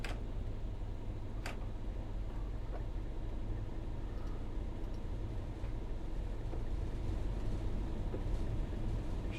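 A train in Train Sim World 6 on the Great Western line pulls away with a steady low rumble and hum, faint clicks and ticks over it, continuous and fairly quiet.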